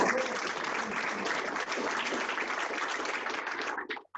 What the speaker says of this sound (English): I want to give the county a round of applause for that one more time